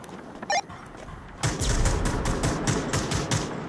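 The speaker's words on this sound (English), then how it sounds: "I hear lots of gunfire" Gunfire in the VR shooter Onward, a rapid run of regularly spaced shots in a sustained burst after a brief quieter opening with a single sharp click.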